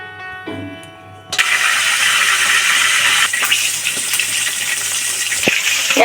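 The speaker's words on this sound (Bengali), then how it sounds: "কড়াইতে পরিমাণ মতো তেল দিয়ে মুরগির লেগ পিসগুলো ভেজে নেব।" Salted chicken leg pieces dropped into hot oil in a pan start a sudden, loud, close sizzle after a quiet second, and the dense crackling hiss then holds steady.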